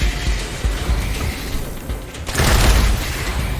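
Gunshots and a heavy boom in the game Wasteland 3, with scattered thudding shots and a louder blast rising midway, dense and close throughout.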